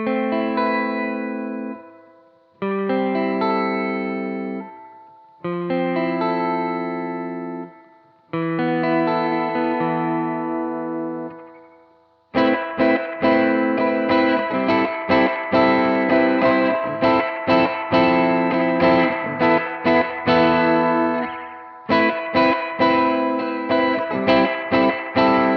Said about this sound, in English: it's kind of like maybe a plate reverb or a room reverb